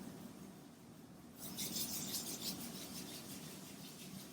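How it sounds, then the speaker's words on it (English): Two hands rubbing together briskly, a soft close rhythmic swishing friction that starts partway in and continues steadily in a quiet room. "take your hands and rub your hands together"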